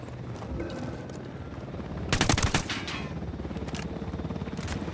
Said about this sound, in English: Must have heard the gunshot.